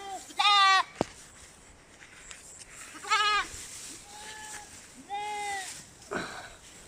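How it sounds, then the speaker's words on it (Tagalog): Goats bleat several times nearby, loud wavering cries spaced a second or two apart, with a person talking quietly between them. "May marami na tong kambing na ilagaan si Mader"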